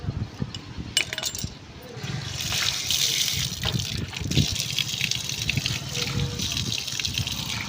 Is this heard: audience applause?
no